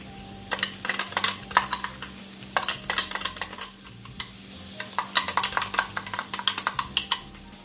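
Curry powder and minced garlic frying in a pan for Jamaican curry goat, a low steady sizzle under repeated close spoon scrapes and clinks against the pan in uneven bursts.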